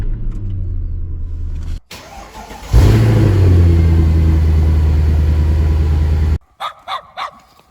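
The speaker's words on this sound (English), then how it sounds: "Let's start her up." A Mercedes E63 AMG W211 cranks and fires into a loud, deep idle rumble on a snowy day, settling into a steady burble before cutting off, followed by a few short thumps.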